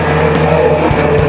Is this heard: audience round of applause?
no